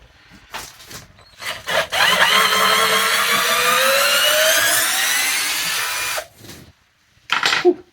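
A cheap Bemmejer power drill runs steadily for about four seconds with a whining, slowly rising motor pitch, preceded and followed by brief clicks and handling knocks.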